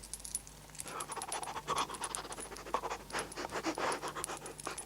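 A faithful dog pants rapidly and scrabbles closer as it comes to meet someone, a rhythmic close breathy panting with light scratchy footfalls, no voices.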